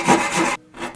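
A Japanese pull saw cuts through wood during lamp making, with two close rasping strokes, the first longer and louder, split by a brief pause.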